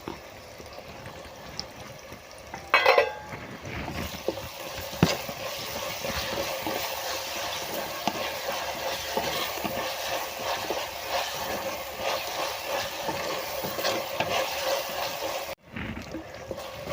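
Onion, green chilli, ginger, curry leaves and tomato sautéing in a pan for a Kerala fish curry, giving a steady, soft sizzle and bubbling hiss that runs evenly throughout, with a brief clatter near the start.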